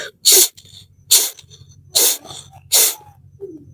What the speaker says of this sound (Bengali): প্রত্যেকবার করার সময় ভস্তিকা করবেন